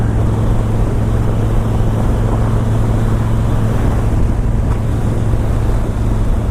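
A 2013 Moto Guzzi California motorcycle cruising at highway speed, heard as a steady, loud engine drone with a low hum buried under constant rushing wind noise throughout.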